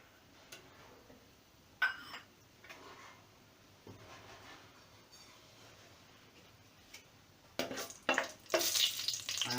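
Bay leaves, cinnamon and cloves fry in hot ghee for a black lentil dal, a quiet steady sizzle with scattered small ticks, swelling into louder crackling spurts toward the end.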